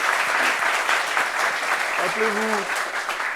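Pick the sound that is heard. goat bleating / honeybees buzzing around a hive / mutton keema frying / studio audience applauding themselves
studio audience applauding themselves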